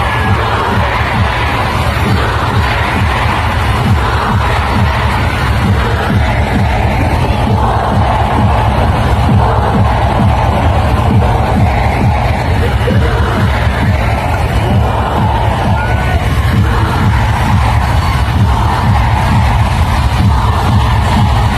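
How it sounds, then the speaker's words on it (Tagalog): A large crowd at a birthday celebration for Rodrigo Duterte shouts and cheers continuously, a dense, loud, sustained roar of many voices with no single speaker standing out. "Narinig niyo yung sigawan ng mga tao."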